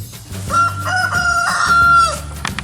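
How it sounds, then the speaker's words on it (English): A rooster crows in a backyard by a small pool at the end of pool season, giving one long drawn-out cock-a-doodle-doo that sounds close and loud, with some faint clucking around it. "it's appropriate that the rooster's crowing"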